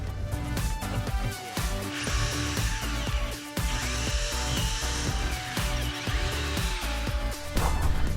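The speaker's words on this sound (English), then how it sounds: "You need to drill this in so that'll hold this bushing in place." Power drill cutting a notch with a hole saw while installing a boat rod holder, a loud continuous whining grind with shifting pitch and brief stalls, heard alone without talk.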